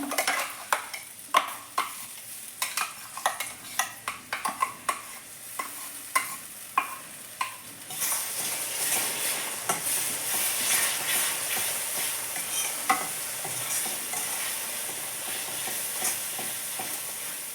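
Ground masala for drumstick curry frying in a pan, first stirred with a run of sharp scraping strokes, then left to a steady loud sizzle with only occasional scrapes, and no talking.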